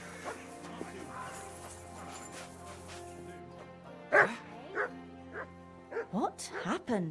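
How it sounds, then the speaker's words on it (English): A dog barks on command in the video game Kingdom Come Deliverance 2. Sharp yips and barks come near the middle and then repeat in a quick burst at the end, over a quiet ambient background. "Sit and bark."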